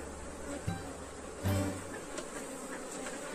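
Honeybees buzz around an opened beehive with the upper box lifted off, a close, continuous insect drone with a couple of brief louder bumps.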